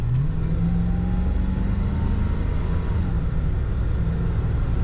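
A 1970 Ford Thunderbird four-door Landau with an automatic transmission accelerates, its engine a steady, loud, mid-pitched drone with a rising tone and a smooth upshift, heard alone from close by.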